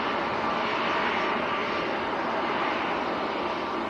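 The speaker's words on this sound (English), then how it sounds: "Air Canada's taxiing out" An Air Canada airliner taxiing out at Manchester airport gives a steady, loud broadband engine roar and hiss that holds level throughout with no pause.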